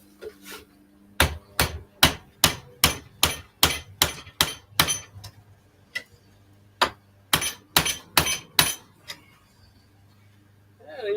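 A hammer drives a chisel to cut metal rivets in a rapid series of sharp, ringing strikes, about a dozen in a steady rhythm, a short pause, then another quick run of blows.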